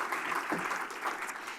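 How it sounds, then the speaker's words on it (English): Audience applause at a community state-of-the-communities event, a soft, steady wash of clapping heard from some distance and fairly faint. "Applause is welcome anytime."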